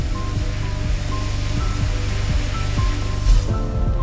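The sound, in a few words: aircraft running through a water trough during testing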